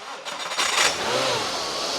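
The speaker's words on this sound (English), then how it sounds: "Start her up." A budget sleeper car engine fires up for its first start, with a short starter whir that catches into a steady, fairly quiet idle close by.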